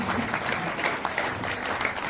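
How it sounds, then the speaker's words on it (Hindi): Audience applause at a Bhagwat Katha religious gathering near a cow shelter, a brief steady burst of many hands clapping together, dense and continuous, with no talking over it. "ताली बजाओ"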